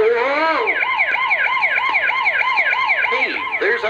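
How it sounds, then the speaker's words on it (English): A loud, close ambulance siren wails in rapid repeating up-and-down yelps, cycling steadily throughout. "That siren is coming from an ambulance."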